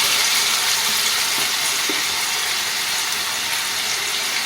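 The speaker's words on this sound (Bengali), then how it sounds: "আলুগুলো আমি খুব ভালো করে ভাজবো এর মধ্যে আর আমি কোনো রকম মশলা ব্যবহার করব না" Diced potatoes frying in a pan with no spices, a steady, close hiss and sizzle of hot oil that carries evenly throughout with no voices.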